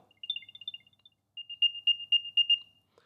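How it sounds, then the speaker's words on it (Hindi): An Apple AirTag plays its locator sound: a bright melodic chirp pattern, a pause, then a louder series of rhythmic beeping tones, close and clear in a quiet room. "सबसे पहला ऑप्शन है प्ले साउंड का तो मैं प्ले साउंड पे क्लिक करता हूँ"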